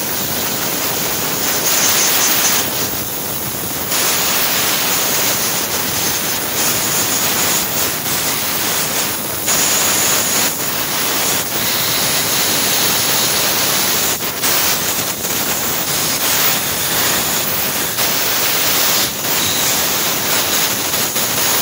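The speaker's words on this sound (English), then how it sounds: "Just blow it off in your hand. Blow the dust off of it." A compressed air sprayer blasts dust off a belt drive filter, making a loud continuous broadband hiss that pulses as the trigger is pressed and eased. No speech is heard.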